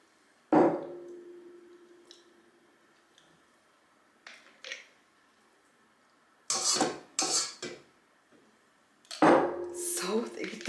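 Thick cream scooped from a jar with a utensil, giving a few sharp clinks and scrapes of metal against glass, separated by quiet pauses, with some soft clatter near the end.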